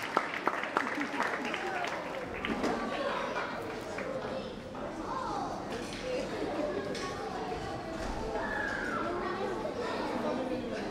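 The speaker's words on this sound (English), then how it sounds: "Please a round of applause for her." An audience at a 2023 preschool and primary school graduation ceremony claps steadily for about eleven seconds, with loud chatter and voices mixed through the applause.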